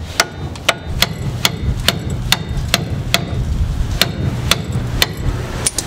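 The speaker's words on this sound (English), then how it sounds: "hammer one side on, and then put this in there, hammer it in" Repeated hammer blows drive a part into a car's front end, about a dozen sharp metallic strikes at a steady, slightly uneven pace over a continuous low rumble of background noise.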